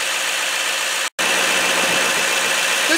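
A 2016 Chevrolet Silverado 2500HD High Country with a 6.6-liter Duramax turbo diesel engine idles loudly and steadily up close, a constant broad rumble and hiss broken by one brief dropout of sound, no voices.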